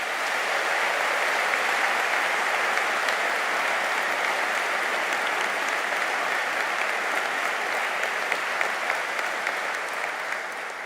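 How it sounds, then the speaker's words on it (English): Large graduation ceremony audience applauding university staff, a long, even, dense wash of clapping from many hands that holds steady and fades slightly at the end. "So I think a big round of applause for the staff who've helped you."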